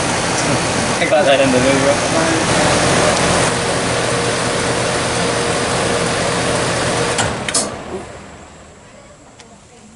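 A new 2022 Comfort Aire 14 SEER outdoor air conditioner hums with a steady broadband fan roar, then is shut off and the fan winds down, the noise fading over a few seconds to near quiet, with someone speaking over it.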